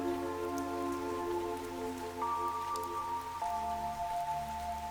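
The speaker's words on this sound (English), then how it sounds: "Yim continued to walk through the rain" Steady rain hissing and pattering throughout in the video game Fantasian Neo Dimension, with sustained musical tones droning underneath at a moderate level.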